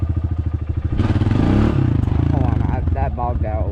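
A dirt bike engine pulses and then bogs down during a ride, loud and close, with a burst of revving and clattering and a voice speaking over the engine toward the end.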